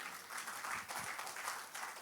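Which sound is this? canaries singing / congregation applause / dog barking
congregation applause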